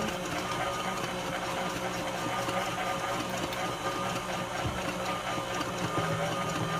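An electric mixer whirs steadily through cupcake batter after milk is added, a faint continuous mechanical hum with a slight rhythmic rattle.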